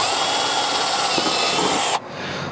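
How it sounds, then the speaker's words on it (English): A power drill whines steadily at high speed for about two seconds while drilling a Yamaha Rhino fender flare mounting hole, then stops abruptly, leaving quieter background hum. "drill my center one"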